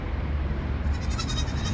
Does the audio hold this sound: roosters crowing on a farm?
no